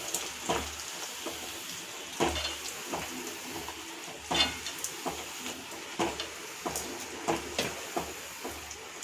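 Dried red chillies, curry leaves and garlic in hot oil for puli kaachal, with a low sizzle under repeated clinks and scrapes of a spoon stirring against the metal pan at an uneven rhythm.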